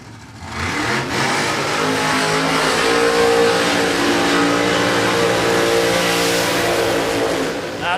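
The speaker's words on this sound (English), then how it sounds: "They're going to go side-by-side burnouts here." Drag race cars do side-by-side burnouts at Warwick Dragway. Engines roar loud and close at sustained high revs for the whole stretch, a dense continuous blare with little variation.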